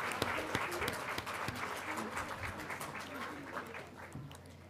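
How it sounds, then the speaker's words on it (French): Children clapping in a room, a lively burst of applause with sharp individual claps that gradually thins out, heard at a moderate distance with faint voices mixed in. "je vais vous donner une main d'applaudissement"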